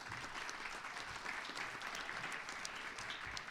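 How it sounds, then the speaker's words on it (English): A conference audience gives its speakers a round of applause. The clapping is dense and steady throughout, heard from within the room at a moderate distance, with no single voice standing out. "can we just give all our speakers a round of applause"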